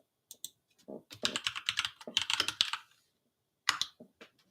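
Bursts of fast typing on a clicky computer keyboard, close and fairly quiet, with a short pause before a final flurry of keystrokes.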